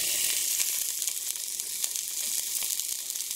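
A piece of steak dropped into hot frying oil for a Beef and Broccoli dish sizzles steadily, a bright crackling hiss with small pops, close and continuous with no talking.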